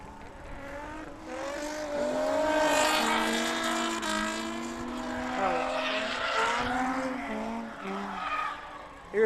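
A Ford Focus RS all-wheel-drive car drives at a winter drift event at PBIR. The engine note rises and falls steadily while the tires squeal in long, wavering sweeps, loud and continuous for several seconds.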